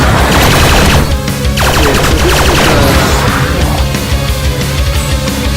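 A boss in the video game Hangeki fires a gun randomly: loud, dense, continuous machine-gun bursts with rattling volleys that barely pause across the whole stretch, with no talk.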